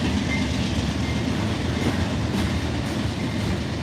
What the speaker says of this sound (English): It appears to be a manifest. Lots of closed hoppers and tankers in the front.